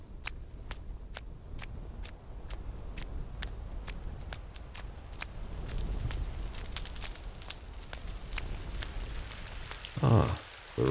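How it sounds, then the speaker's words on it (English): Rain falling in the Rising World video game, a soft, steady patter with sharp drip-like ticks at regular intervals and a brief louder burst near the end. "Ah, the rain has come."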